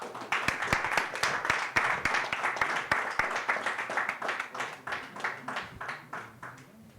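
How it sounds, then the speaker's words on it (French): Audience applause at an ARES 22 MMA press conference, a dense, steady patter of many hands clapping throughout, fairly close and fading slightly toward the end, with no speech over it. "Vous pouvez applaudir Patrick."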